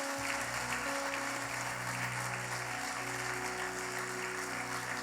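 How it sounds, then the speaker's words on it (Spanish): Congregation in a church service applauding together, a steady wash of clapping hands under sustained organ or keyboard tones, no talking. "¿Por qué no le das un fuerte aplauso al Señor?"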